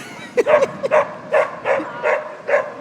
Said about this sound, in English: there's a dog barking over there